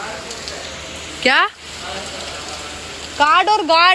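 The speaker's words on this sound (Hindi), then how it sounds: "गाइस अभी हो रही है बारिश" Steady monsoon rain falling, a constant close hiss of downpour throughout, with a woman and others briefly speaking over it.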